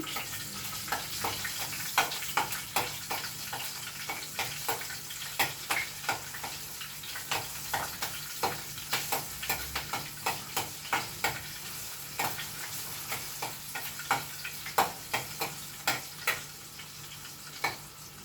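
Green chillies and then dried red chillies fry in hot oil for mango pulihora, giving a soft, steady sizzle close by, dotted with frequent sharp crackles and pops.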